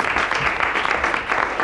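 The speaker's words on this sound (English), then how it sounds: "Superb, deserves a round of applause." Steady applause fills the whole moment, a dense wash of clapping with no pauses, fairly loud and close.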